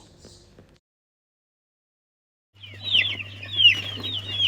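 Native country chickens, including broody hens with chicks kept for sale in Kerala, cluck and squawk in a loud, busy burst over a steady low hum, after a quieter opening and a brief silence.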